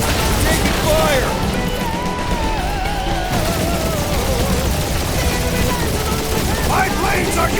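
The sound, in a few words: turret gunfire in Marvel's Guardians of the Galaxy video game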